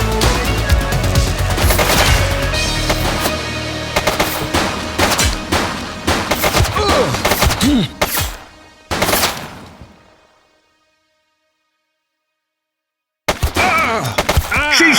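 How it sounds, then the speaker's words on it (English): Loud, rapid bursts of gunfire ring out in The Precinct, a police video game, followed by several seconds of silence and then a final burst. "She's shooting!"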